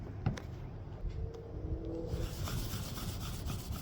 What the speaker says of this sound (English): you just rub it like this, and you hear all that grit